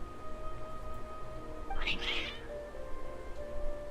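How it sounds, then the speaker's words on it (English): In the video game Genshin Impact, a cat gives one clear meow near the middle over a quiet background of game music and ambience. "Nabia's cat."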